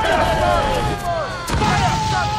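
Ship cannons fire in Assassin's Creed 4, heavy booms landing around the start and again near the middle, mixed with shouting voices and ongoing battle noise.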